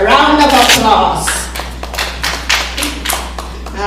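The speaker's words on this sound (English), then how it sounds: "let's give ourselves a round of applause" At a conference session with Philippine delegates, a person speaks briefly, then the audience breaks into scattered, uneven clapping with sharp individual claps close by.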